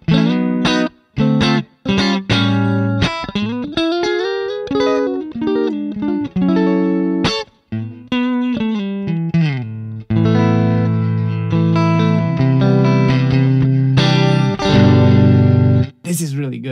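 Funk guitar runs through the Neural DSP Archetype Cory Wong plugin with reverb on. Bright, bending single notes and chord stabs play in bursts with brief gaps, and the reverb leaves a washy tail.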